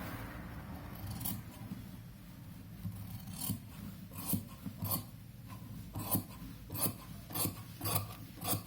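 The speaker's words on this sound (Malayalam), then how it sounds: "ഈ വരച്ച പോർഷനെ നമ്മൾ കട്ട് ചെയ്ത് മാറ്റിക്കളയാണ്." Scissors cut through fabric for a child's pattu pavada in a steady series of close, crisp snips that come faster and sharper toward the end, over a low background hum, with no speech.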